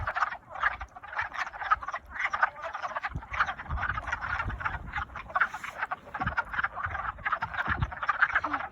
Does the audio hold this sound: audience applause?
no